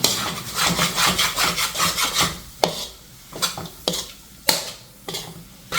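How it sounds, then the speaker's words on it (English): Dry masala with onions, ginger and garlic is stirred in a kadhai, a close scraping of the utensil against the pan in quick rhythmic strokes, then slower separate scrapes and knocks. "giving it a good mix so that the dry masalas is coated on all the onions, ginger, garlic and other masalas"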